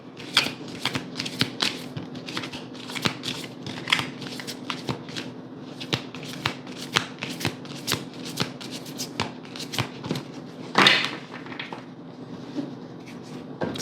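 Tarot cards shuffled by hand at close range, a long run of rapid riffling flicks and soft slaps in an uneven rhythm, with a brief louder rustle near the end and no speech.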